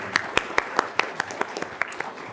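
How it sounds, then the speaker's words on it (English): Sparse applause for faculty at a university awards ceremony, a handful of distinct claps in a loose, even rhythm, near and fairly loud, with faint murmuring behind. "Let's give all of our faculty who are celebrating their 20 years anniversary at UHD a round of applause"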